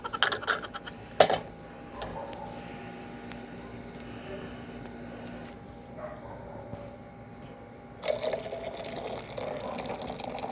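Boiled water poured out during a roadside stop, a faint trickle and splash at a distance, with brief clattering handling sounds in a quiet setting.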